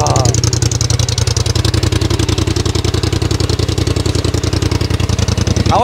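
A 90 hp sport quad bike engine idles close by with a fast, steady, throbbing pulse that holds evenly throughout, loud and alone.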